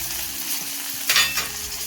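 Curry leaves and dried red chilies for tempering crackle and sizzle in hot oil, a soft continuous frying hiss with a brief louder burst of spattering midway, close and alone.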